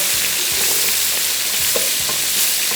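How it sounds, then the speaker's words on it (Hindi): Two tablespoons of flour frying into the sauce for beef stroganoff, a loud, steady sizzle up close with a few utensil scrapes and taps against the pan. "इसको थोड़ा सा फ्राई किया"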